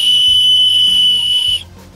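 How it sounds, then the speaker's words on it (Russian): A toy whistle built into a Chupa Chups lollipop gives one steady, shrill, loud tone for about a second and a half, then cuts off abruptly. Faint background noise remains. "надо вот сюда свистеть."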